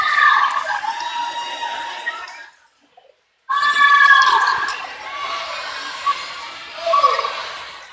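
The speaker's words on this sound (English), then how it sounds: "Still have a really good crowd here in the spectators area." Spectators at an indoor swim meet produce a lively crowd din of shouting and cheering voices, echoing loudly, dropping away briefly midway before surging back.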